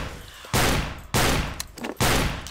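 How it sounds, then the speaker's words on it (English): A shotgun fires three times in Garry's Mod, each blast a loud broadband boom with a short tail, spaced roughly every half second to a second, with no talking. "That looks like a cool shotgun. Wonder how far you can shoot it."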